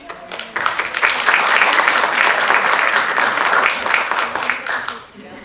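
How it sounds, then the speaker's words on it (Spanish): An audience claps for a professional singer, the applause swelling quickly, holding dense and steady for several seconds, then tapering off near the end. "fuerte el aplauso."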